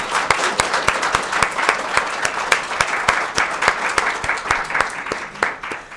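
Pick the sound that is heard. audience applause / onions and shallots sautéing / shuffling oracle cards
audience applause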